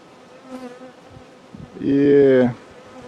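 Honeybees at an opened hive buzz in a loud, steady burst for about half a second, a dense harmonic drone rising above a quieter background hum of the colony.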